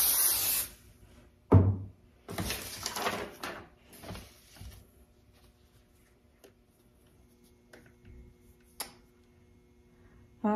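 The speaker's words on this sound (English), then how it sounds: "I am gonna spray this with the temporary bond adhesive" A few short hissing bursts of an aerosol temporary bond adhesive can spraying nearby onto chipboard inserts, separated by pauses and quiet handling noises.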